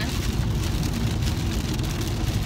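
Heavy rain pours down at the beach, a dense, loud, unbroken hiss and patter over a deep rumbling wash.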